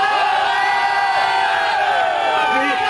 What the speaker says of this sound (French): Et sous la huée de la foule.